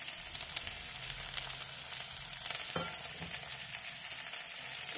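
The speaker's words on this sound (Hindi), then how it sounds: "और इसमें प्याज है, और ये सुनहरा होने तक भूनेंगे इसको।" Chopped onion with capsicum frying in a pan for masala Maggi, a dense, steady sizzle that runs on without a break, with an occasional faint clink from the pan.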